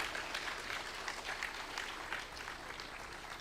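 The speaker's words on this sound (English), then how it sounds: "Can we have a huge round of applause as Sir joins us on the dais?" An audience at a foundation day celebration claps as a guest takes his seat on the dais, a steady moderate wash of applause that softens slightly toward the end.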